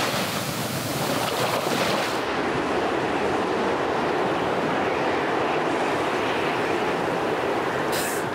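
Water flowing and wind sweeping around an uninhabited island at Hagonoy, San Agustin, Surigao del Sur, a steady broadband wash with gusting wind noise on the microphone, loud and continuous throughout with no voices.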